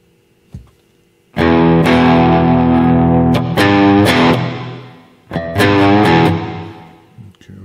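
Distorted electric guitar chords through a Headrush MX5 rig ring out in a few strummed bursts, each trailing off into a smooth, lingering medium plate reverb tail.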